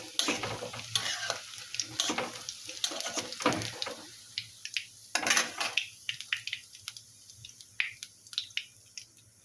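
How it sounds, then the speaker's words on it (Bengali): Cauliflower pakoras deep frying in oil, heard as bursts of crackling and clattering stirring, then a quieter bubbling sizzle dotted with sharp pops and taps. "এইভাবে বাকি ফুলকপিগুলো পকোড়া করে ভেজে নেব"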